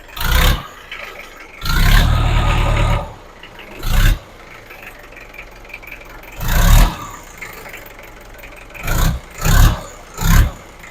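A Mahindra tractor engine cranks and catches, then runs with repeated bursts of revving, loud and close, rising and falling several times.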